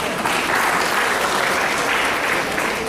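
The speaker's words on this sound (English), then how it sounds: "Please give him a huge round of applause." A crowd at a medical college Teachers Day celebration claps for a teacher, the dense, loud applause holding steady and continuous for the full few seconds with no voices on top.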